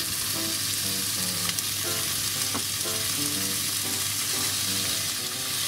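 Bacon fries in light olive oil for a Japanese-style pasta, giving a dense, even crackling sizzle that holds steady throughout with no speech.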